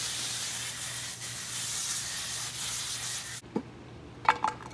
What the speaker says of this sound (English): A quick rinse.